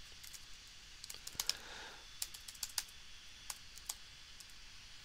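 Light typing on a computer keyboard while naming part models in SolidWorks, soft scattered key clicks in short bursts, fairly close and quiet, with no talking.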